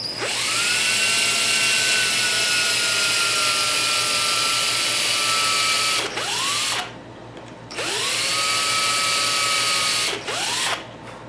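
A power drill bores a screw hole in a wooden drawer piece, with a loud, steady whine running continuously for several seconds. It slows and spins back up twice near the end, and no one speaks over it.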